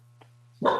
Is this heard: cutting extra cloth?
no